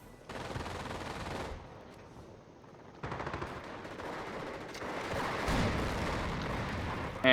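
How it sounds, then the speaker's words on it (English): Machine gun fire in a Company of Heroes 4v4 battle, sustained rattling bursts of automatic gunfire with a brief lull, then renewed heavy firing mixed with distant explosions. "Captain Spanky's covering my flank with a machine gun and an AT gun"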